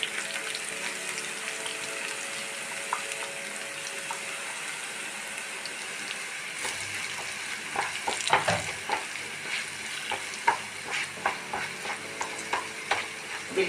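Ground curry leaves sizzle in hot oil in a pan for a curry leaf pickle, a steady frying hiss joined midway by louder scraping stirs that repeat in an uneven rhythm, close and with no voices.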